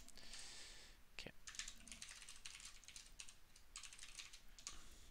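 Quick bursts of keystrokes clatter on a computer keyboard during a coding session, arriving in uneven clusters with brief pauses, fairly close and moderately loud with no talking.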